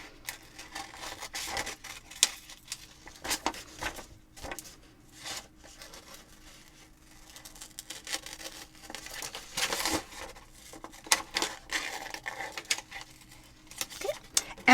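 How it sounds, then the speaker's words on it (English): Scissors cutting paper for a Lunar New Year lantern, faint close snips and rustling crinkles coming in irregular bursts, with the paper turned between cuts and no talking. "And I turn my paper as I am cutting."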